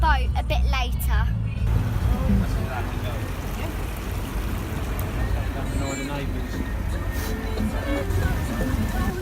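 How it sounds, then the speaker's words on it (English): Steady road and engine rumble inside a moving car on the way to Datchet, loud and continuous, with people talking over it. "we are in the car on the way to Datchet"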